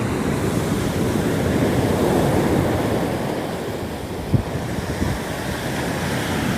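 Steady broadband roar of sea surf washing onto Chowpatty beach in Porbandar in light rain, with wind buffeting the microphone throughout and a couple of brief knocks near the end.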